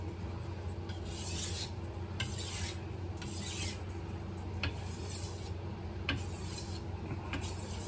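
A kitchen knife is sharpened on an 800-grit whetstone: repeated rhythmic rasping strokes of steel on stone, roughly one per second, close and clear with no talking.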